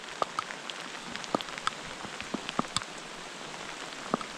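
Light rain patters steadily on a surface nearby, with scattered louder drips landing over a soft, continuous hiss.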